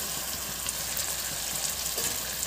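Curry sizzles steadily as it is stirred and fried in a pan, a dense, continuous crackle with soft scraping, close and fairly loud with no voices.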